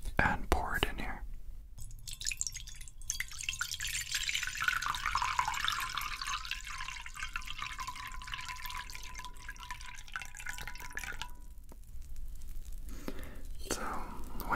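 Water is poured from a container into a small bath for soaking keyboard keycaps, giving a steady trickling pour for several seconds between soft whispered talk.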